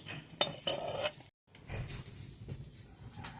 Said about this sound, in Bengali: এখন আমি এগুলো পাত্রে ঢেলে নিচ্ছি